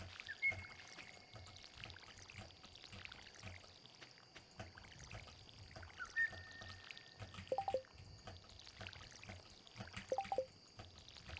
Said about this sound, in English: I'd like to water the blueberries.